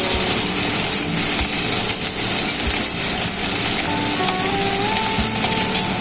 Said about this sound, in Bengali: এবার সবকিছু একটু ভাজা ভাজা করে নেব।